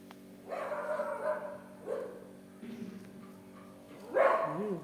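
A dog barks and yips in a few bursts, close and moderately loud, with short gaps between them and a final louder bark at the end.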